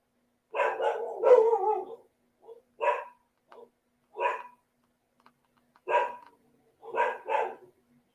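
A dog barks in several short, sharp bursts spaced a second or so apart, close and loud against an otherwise silent background.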